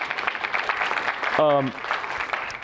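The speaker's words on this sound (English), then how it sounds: "So please, give Reid a round of applause" A conference audience at a futurist summit claps in a steady, moderate round, briefly overlapped by a speaking voice near the middle.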